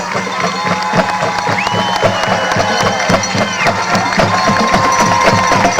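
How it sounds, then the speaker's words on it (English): Crowd at a 1997 high school football game, Shenandoah vs Monroe Central, cheering loudly and steadily, a broad roar with a band or rhythmic clatter running underneath. "And that brings the crowd to their feet."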